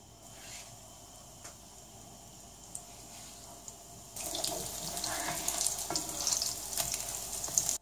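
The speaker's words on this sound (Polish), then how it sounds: "Na patelni rozgrzewamy masło klarowane i smażymy kurczaka na złoty kolor." A soft background hiss builds into loud, steady sizzling and crackling of chicken cutlets frying in clarified butter in a hot pan, close by, with occasional pops.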